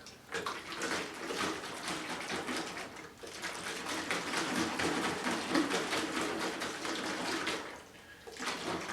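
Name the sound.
shaking plastic container of water and sand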